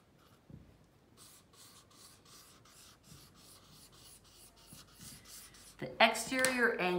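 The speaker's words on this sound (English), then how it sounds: "I'll write it and then I'll say what it says." Marker strokes squeak and rub on a classroom board during an algebra lesson, with quiet scratching at first and sharper, louder squeaks near the end.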